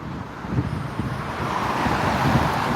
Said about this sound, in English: Wait till traffic clears.